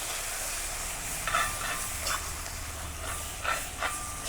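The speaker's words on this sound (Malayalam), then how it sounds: "ഇനി ഇത് നന്നായിട്ട് മിക്സ് ചെയ്യാം." Tomato pickle mixture being stirred in a pan, a soft steady sizzle with a few brief scraping strokes of the spoon coming through, close and alone.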